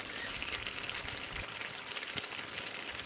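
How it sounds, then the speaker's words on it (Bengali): Chicken meat frying in a pan for chicken kosha, a steady soft sizzle and crackle running throughout, faint and without talk. "মাংসটা ভালো করে ভাজা ভাজা করে নিয়েছি"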